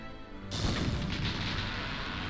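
A grenade explodes in a war video game: a sudden low boom bursts in after a half-second lead-in, then a rough rumbling blast tail lingers at moderate loudness.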